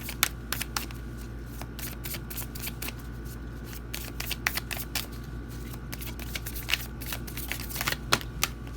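Repeated crisp riffling bursts of tarot cards being shuffled, close by, in quick irregular runs over a steady low hum.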